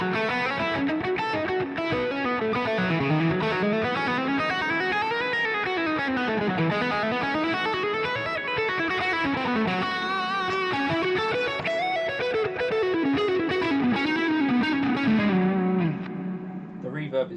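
A distorted electric guitar through a Quad Cortex amp modeler on a California amp model plays a steady riff with sweeping melodic runs, loud and continuous, heavy with cave reverb, fading slightly at the end.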